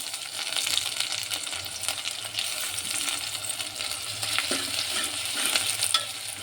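Curry leaves and ginger-garlic paste fry in a pan for a chana dal curry, giving a steady, crackling sizzle while a spoon stirs and scrapes throughout, close up, with no voices.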